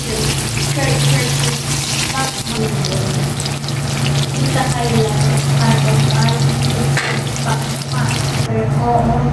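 Chopped ginger sautés in a pan for a sweet and sour sauce, giving a loud, constant close sizzle with a steady hum and occasional stirring scrapes, and some faint talking underneath.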